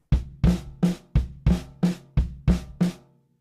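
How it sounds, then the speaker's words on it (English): Nine evenly spaced, punchy hits from a drum kit, snare and kick landing together with an extra bass drum added to the pattern, close and loud before stopping. "I add another bass drum"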